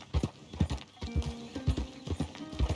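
A horse in the Red Dead video game trots with rhythmic clip-clopping hooves, and a whinny rises partway through, close and clear with no talk over it.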